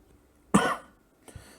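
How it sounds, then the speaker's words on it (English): A single sharp cough sounds close to the microphone, followed a moment later by a softer, shorter second cough or throat clear. "Got a bit of a cough."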